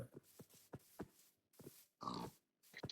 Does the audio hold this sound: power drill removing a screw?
no